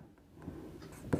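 Writing on a classroom board during a Hindi-language maths lesson on relations and functions: a few brief, soft scratching strokes against low room noise, with the sharpest stroke near the end.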